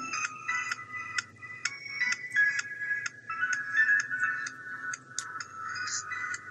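A ringtone plays from the small speaker of a WIM Y1 smart watch, a thin, tinny electronic melody of quick repeated notes, close but fairly quiet, with no voices over it.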